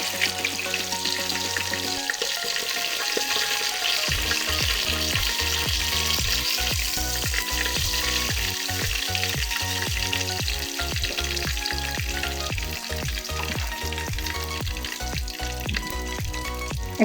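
Bay leaves, cardamom, cloves and cinnamon hit hot oil, starting with a brief hum and quiet pause, then bursting into loud, dense, continuous sizzling and popping up close, with rapid crackles all through.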